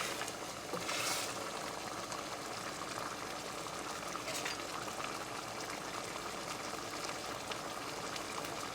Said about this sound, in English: Boil it for just a few minutes until your gnocchi is all soft